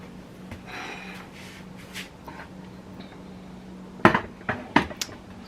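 A knife slicing through a crispy leftover egg roll, a few sharp crunchy cracks close up near the end after quieter scraping and handling noises.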